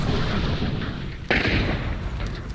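Waxed dynamite going off in Hunt: Showdown, a single sudden blast striking over a steady rumbling game ambience, followed by a brief rolling tail.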